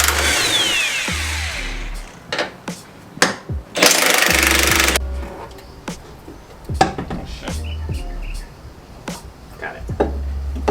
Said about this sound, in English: we just gotta take off these bolts and then slide it right out